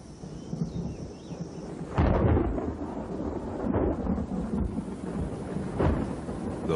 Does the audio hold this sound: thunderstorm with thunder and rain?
yes